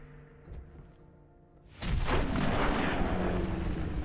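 A suicider's explosion in Fallout 4 bursts in after a quiet stretch, a sudden loud blast that rolls into a sustained roaring rumble for a couple of seconds.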